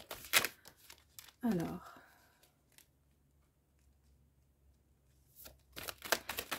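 Oracle cards being handled and drawn, with crisp papery rustles and a sliding shuffle near the start and end, close to the microphone, between stretches of someone talking.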